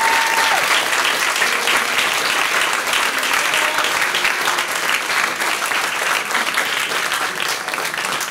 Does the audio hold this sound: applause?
yes